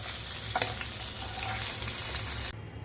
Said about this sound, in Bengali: ওই তেলেই আমি কালো জিরা ফোড়ন দিয়ে দিলাম